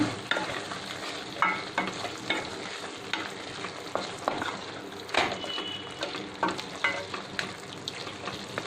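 Aloo gobi with garam masala being stirred in a frying pan, a steady close sizzle broken by repeated scraping strokes of the spoon in an irregular rhythm throughout, with no voices.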